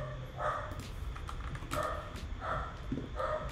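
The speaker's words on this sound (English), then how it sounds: "Sorry about my dog barking a lot there." A dog barking in a room, a few separate barks spaced through the moment over low background hum, fairly faint and with no talking over it.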